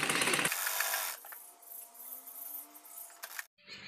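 A sewing machine stitches stretched elastic onto fabric for a baby girl's top. A short burst of rustling opens into a steady mechanical whir of close stitching that runs for about three seconds and then stops.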